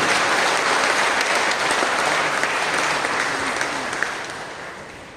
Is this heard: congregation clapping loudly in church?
yes